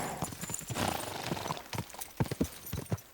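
Horse hooves galloping at top speed in the medieval game Kingdom Come: Deliverance II, a run of close, rhythmic thuds over a steady background wash, with no talking.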